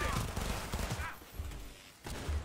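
Rapid gunfire from a weapon in the Cyberpunk 2077 video game, bursts of loud shots clustered early and again near the end, with game noise and some voice mixed in.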